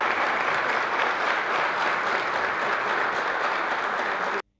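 A standing ovation in the Turkish Grand National Assembly, with dense, loud, continuous clapping from a large chamber that cuts off abruptly at the end.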